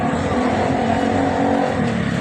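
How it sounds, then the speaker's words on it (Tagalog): Car traffic moves steadily along a street in Quiapo, Manila, a loud and continuous engine-and-road roar with no break and no talking. "Ayan po yung takbo ng ating mga sasakyan."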